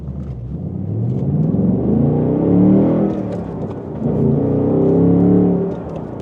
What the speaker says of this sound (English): In terms of how this engine sounds, it sounds pretty good in my opinion